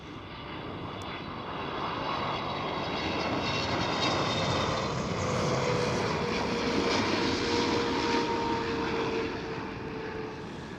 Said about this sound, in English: Next one up is KLM Boeing